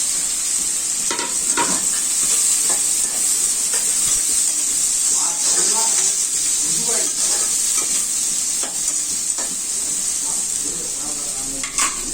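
Okra curry frying in a pan, a constant bright sizzle and hiss with intermittent scraping stirs and clinks of a utensil against the pan, close and steady throughout.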